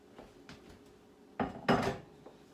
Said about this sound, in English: the last thing I'm going to add are my 3 cups of chopped apples